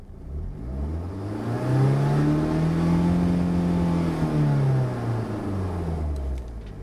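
1991 BMW 318is E30 engine revved slowly in neutral up to about 5000 RPM, a close rising growl that peaks and then falls back toward idle, heard alone.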